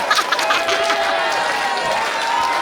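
A wrestling crowd in Maine cheering for Ace Romero, a dense roar of voices and whoops, loud and close, with shouts rising and falling.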